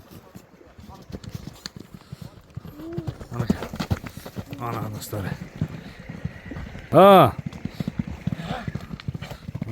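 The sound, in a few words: young horse running, hooves clip-clopping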